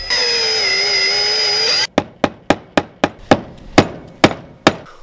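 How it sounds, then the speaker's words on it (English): A power drill whines steadily while drilling out the center of a stuck bolt during a roof rack installation, then cuts off. About ten sharp metallic impacts follow in an even rhythm, close and loud. "we're just gonna keep drilling this out, and hopefully by drilling the center of the bolt out, it relieves those threads a little bit"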